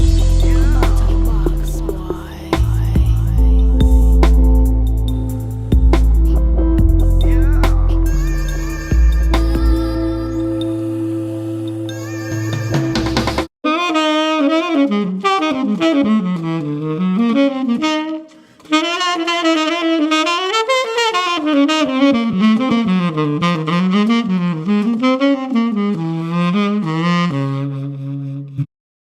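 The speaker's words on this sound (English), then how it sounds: "Now, me playing the sax physically did just happen." Saxophone played solo, a sustained wavering melodic line with vibrato, loud and close, following a section of layered instrumental music.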